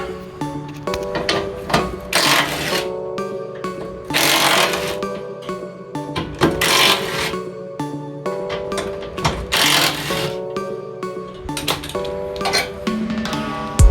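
A tool works the bolts on the oil sump guard under a Fiat 500 in rapid mechanical bursts of clicking and whirring, with loud ratcheting runs separated by brief pauses, close and busy.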